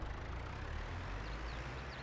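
A tractor engine in Farming Simulator hums at a low, steady idle, a faint continuous rumble with no breaks and no voices.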